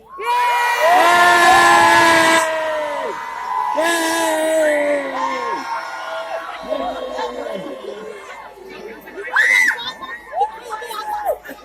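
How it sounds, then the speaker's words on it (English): A large crowd, many of them children, cheers, whoops and screams together at a Christmas market light switch-on in Boston, loud at first and then trailing off into scattered shouts and chatter. "then we're going to have a large cheer"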